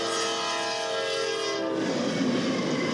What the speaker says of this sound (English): It's another westbound ballast train.